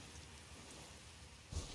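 Rain falls steadily in the video game Elden Ring: Nightreign, a faint continuous patter with a soft low rumble swelling briefly near the end, and no talking.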